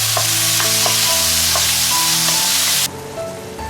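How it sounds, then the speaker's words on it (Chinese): Tomatoes stir-fried in a wok, a continuous loud sizzle broken by regular scraping strokes of the spatula, then dropping to a quieter simmer near the end. "西红柿炒出汤汁"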